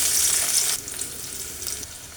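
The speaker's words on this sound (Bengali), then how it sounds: "মাছ রান্না করার জন্য আমি তেলগুলো দিয়ে দিচ্ছি যে ভাজি করেছিলাম পেঁয়াজ দিয়ে দিচ্ছি" Onions hit hot oil in a pan for a Bengali rui fish curry, a loud, close, steady sizzle that drops to a softer, crackling fry after the first moment.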